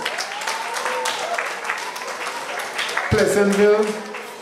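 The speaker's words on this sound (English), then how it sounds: "So give them a round of applause." Audience applause at a school craft display and prize-giving ceremony, steady clapping from a moderate crowd with voices mixed in, and a sharp louder burst near the end.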